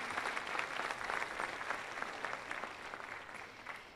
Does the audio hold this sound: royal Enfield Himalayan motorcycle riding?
no